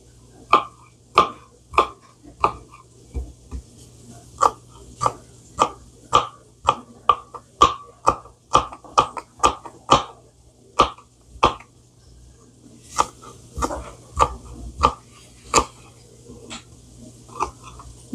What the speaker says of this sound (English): Cut it up fairly small slices.